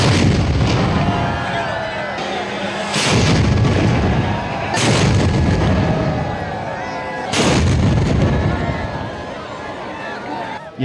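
Three heavy cannon blasts roll out at a temple in Nathdwara, Rajasthan, part of a 21-cannon salute for Krishna Janmashtami, each loud boom trailing a long rumbling echo with crowd noise and voices in between.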